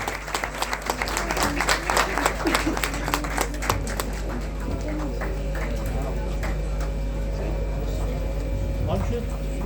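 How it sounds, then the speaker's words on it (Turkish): A crowd at a Turkish film award ceremony claps steadily for a lifetime achievement award, dense at first and thinning slightly, with voices talking beneath the applause. "Alkışlarla Yaşam Yıldız Ödülü Sevgi Can Damlı hanımefendiye geliyor"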